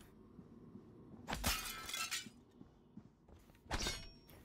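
Shower glass in the game Prey struck twice, each a loud crashing impact with a bright shattering ring, separated by a couple of seconds of quiet room tone.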